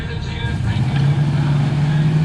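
AMC drag racing car launching in the left lane with wheelspin at a national AMC drag racing competition: a loud, sustained engine roar with a steady droning tone that holds for the whole stretch, with a voice talking over it.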